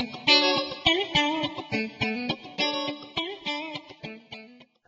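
Clean electric guitar on a split-coil middle pickup strummed in a steady rhythm of bright, jangly chords with a hollow, scooped tone, each stroke ringing briefly before the next.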